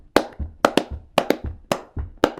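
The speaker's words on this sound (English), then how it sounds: "That clap right there is" Crisp, close hand claps keep a quick, syncopated rhythm alongside flatfoot buck dancing, paired beats alternating with softer low thumps of feet on the floor.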